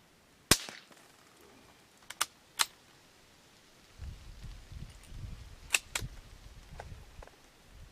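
Several sharp, dry cracks from an old Remington 510 Targetmaster .22 rifle ring out singly and spaced apart, fairly close, with quiet handling and rustling noises between shots.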